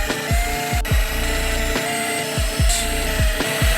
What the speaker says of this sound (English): There's only so many times you can see a drill bit go through a pipe.